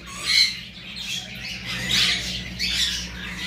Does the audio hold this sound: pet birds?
yes